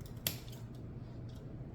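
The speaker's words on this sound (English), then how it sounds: "So I'm just going to cut these down" Scissors cut down Christmas centerpiece picks with one sharp close snip, followed by faint soft rustles and small clicks against a quiet room hum.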